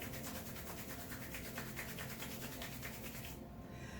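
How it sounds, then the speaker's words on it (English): Hands rubbing together with massage oil, a steady close swishing friction with a quick regular rhythm that stops abruptly near the end. "I need a little more oil. Again, we'll rub our hands."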